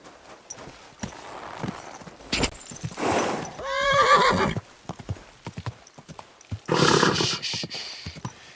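A horse whinnies loudly nearby amid clopping hooves in Kingdom Come: Deliverance II, with another neigh following, over a faint background.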